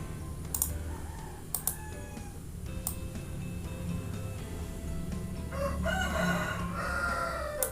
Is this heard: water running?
no